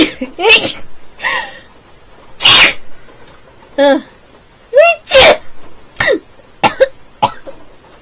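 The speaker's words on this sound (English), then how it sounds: "I'm going to sneeze" Several sharp, explosive sneeze-like bursts break out one after another, mixed with strained vocal sounds and throat noises, close and loud.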